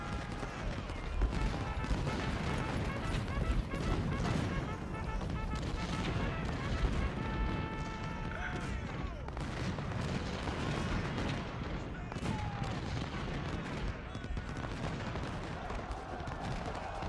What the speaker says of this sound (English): Buford, hit that cannon for all it's worth.